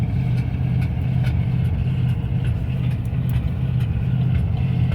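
Ford F600 truck engine running rough with a faulty choke and weak charging, a steady loud low rumble with slight uneven pulsing throughout, no voices.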